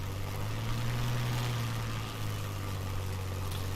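Spitfire L.F. Mk IXc engine in a flight simulator, its RPM surging during a landing approach: a steady, droning low engine hum runs throughout at moderate level, with no talk.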